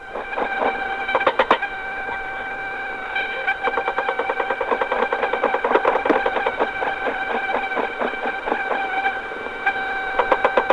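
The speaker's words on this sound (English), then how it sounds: "And the machine gun's coming in now." Machine gun fire from a Vietnam War–era attack aircraft, heard as rapid repeated bursts of shots over a steady droning engine and radio hiss, loud and continuous through the whole stretch.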